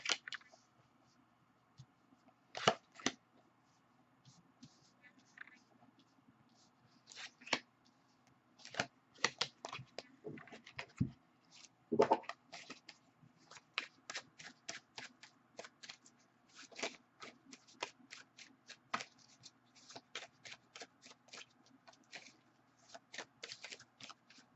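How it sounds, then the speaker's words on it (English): Tarot cards are dealt and laid out on a surface, giving a long run of crisp, close card snaps and slaps in irregular bursts, with short pauses between placements and no voice. "as I lay out the cards"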